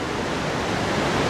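The Bjarnarfoss waterfall in Iceland gives a steady, dense roar of falling water, loud and unbroken, with no voices.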